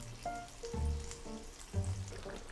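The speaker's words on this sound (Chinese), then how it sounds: "对我想再煎一下，让它表面焦焦的" Boiled sweet potato sizzling as it browns in a pan for a hot pot and barbecue meal, a soft crackling hiss beneath intermittent tonal sounds and low thumps.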